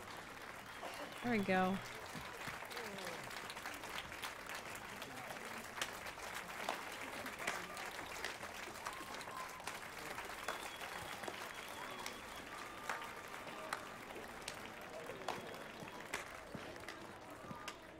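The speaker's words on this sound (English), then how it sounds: "Standing ovation!" Steady applause from an in-game audience in The Witcher 3: Wild Hunt, a continuous patter of clapping for a bard's performance that lasts throughout, with a voice speaking briefly near the start.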